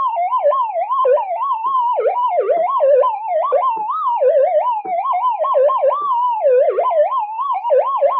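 A Minelab GPX-6000 metal detector in a noisy workshop gives a continuous warbling, wavering electronic tone that rises and falls like a siren, loud and steady throughout with no speech.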